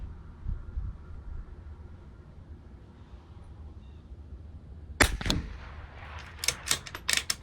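A Bergara B14R rifle firing Lapua ammunition at a 200-yard target: one loud, sharp close crack against quiet outdoor background, followed a moment later by a quick cluster of fainter snapping reports, with no talking.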